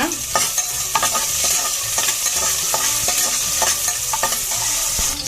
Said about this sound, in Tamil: இந்த ஸ்டேஜில் வெங்காயத்தை ஆட் பண்ணிக்கோங்க ஒரு வெங்காயத்தை ஆட் பண்ணிக்கோங்க